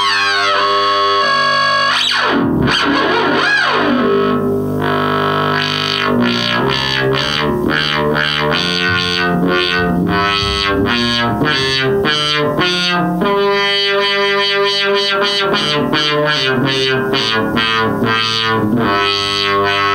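A homemade spring reverb built from a thunder tube with a tiny motor on the end smears a sweeping synth-like tone into a loud, distorted, warbling wash of shifting pitches and pulsing echoes, continuous for about twenty seconds with no voices.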